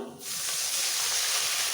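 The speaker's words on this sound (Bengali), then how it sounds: "এবার দিয়ে দিচ্ছি সামান্য একটু জল" Water splashed into a pan of onions already fried red hits the hot oil and bursts into a loud, steady hissing sizzle that holds for well over a second after a brief quieter start.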